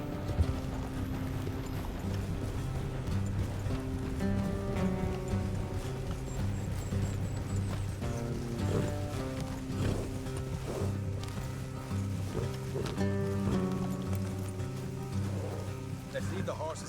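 Horses' hooves in Red Dead Redemption 2, a steady clip-clop of riders moving at pace along a road, continuous and fairly close, beneath music and voices talking.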